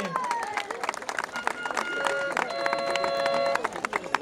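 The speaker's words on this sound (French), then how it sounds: "Applaudissements pour Flash McQueen et Sergent, s'il vous plaît" Scattered clapping from a crowd at a European film-star car show, mixed with chatter, bright tones and busy outdoor commotion, moderately loud throughout.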